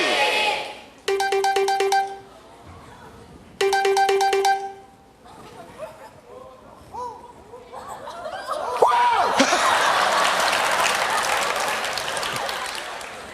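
After a number is dialed, a phone rings in two clear electronic bursts. Voices, then audience laughter and applause, follow in a comedy sketch setting.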